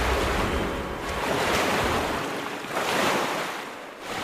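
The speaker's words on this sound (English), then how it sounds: "The plane splashes down at a speed of 104 miles per hour." A passenger plane ditches onto water at 104 miles per hour, heard as a loud, sustained roar of rushing water and wind that swells and surges over several seconds with no voices.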